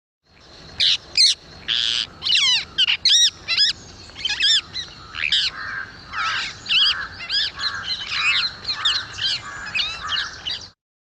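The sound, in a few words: rose-ringed parakeet call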